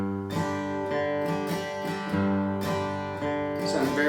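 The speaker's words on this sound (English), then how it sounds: "So if I play it straight ahead without the accent, it would sound like this." An acoustic guitar strums an even bluegrass rhythm with no accents, bright ringing chords repeating in a steady pulse, close and clear with no talking.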